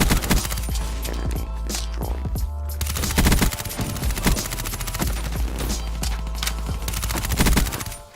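In Black Ops 3, an XMC with dark matter camo fires in rapid, sustained bursts, its sharp cracks repeating almost nonstop and sitting loud and close over a low engine-like hum.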